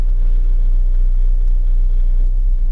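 A 2005 Renault Mégane RS engine idles with a loud, steady low rumble and a constant vibrating drone, close up and unchanging.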